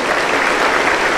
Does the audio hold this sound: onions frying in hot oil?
no